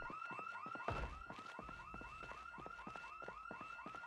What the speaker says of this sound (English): I think that alarm's coming from here